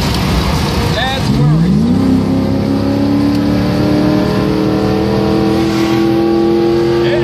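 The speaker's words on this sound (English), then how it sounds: "the car not quite running right either" Car engine running rough with a suspected failing fuel pump, a steady droning hum with a rising pitch sweep early on, then holding level and fairly loud, with a voice talking over it.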